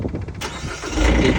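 A Kubota SCL1000 compact track loader cranks briefly, then its engine catches and settles into a loud, steady idle close by.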